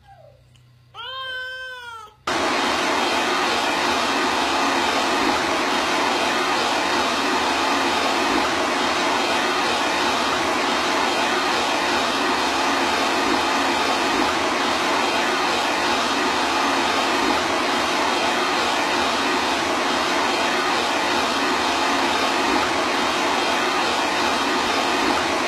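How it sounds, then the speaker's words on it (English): A cat meows with rising, wailing calls for a couple of seconds before a hair blow dryer switches on after her bath. Its loud, steady whooshing hum then runs close and unbroken to the end. "You ready for the blow dryer?"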